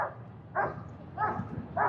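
Agitated police dogs, likely shepherds, bark in short harsh bursts at a downtown Vancouver police incident, four barks spaced about half a second apart, heard from a moderate distance outdoors.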